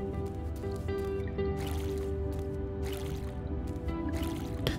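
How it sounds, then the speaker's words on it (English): Water being poured or collected in the survival game Mr. Prepper, a soft liquid splashing and trickling in several bursts, fairly close over a steady background music bed. "Let's also get more water from here. So we can water our plants."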